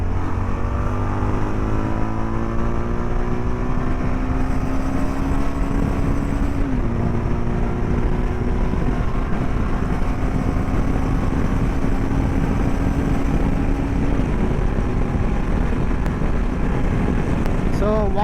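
A Jawa Yezdi Adventure motorcycle cruises flat out above 140 in fifth gear, its steady engine drone buried in continuous loud wind roar, the pitch climbing slowly with a small gear-like step partway.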